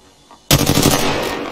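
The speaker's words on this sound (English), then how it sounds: "I shot the cargo bot" Loud burst of automatic gunfire in Apex Legends, aimed at a cargo bot, breaking suddenly out of near silence and continuing as a rapid, sustained stream of shots.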